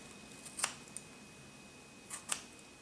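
Two quiet pairs of crisp scissor snips cutting hair during a 90-degree layered haircut, one pair early and one near the end, with near silence between.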